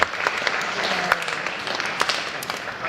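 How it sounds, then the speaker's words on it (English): An awards-ceremony audience claps for students and their families, a dense, continuous round of applause with sharper individual claps popping out. "So let's give students, your parents, guardians here, grandparents, family, a big round of applause,"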